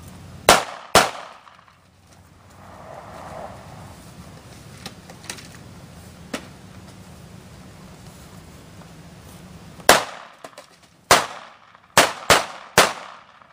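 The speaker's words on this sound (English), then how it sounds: "Got the Springfield 1911 45 caliber and we're just going to blow this guy away." Sharp, loud reports from a Springfield 1911 .45 caliber pistol: two quick shots, a long quiet gap, then a rapid string of four or five more shots close by.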